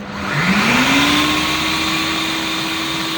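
An electric mixer beats keto bread batter, a steady loud whine that rises in pitch as the motor spins up and then holds a constant drone throughout.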